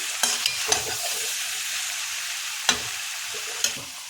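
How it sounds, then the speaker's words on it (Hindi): Mixed vegetable curry sizzles in a pan as it is stirred and fried, with steady frying hiss broken by a few sharp scraping clicks of the spoon, close up and without talk. "2 मिनट तक इसको भून लेंगे, फिर हरी धनिया डालेंगे"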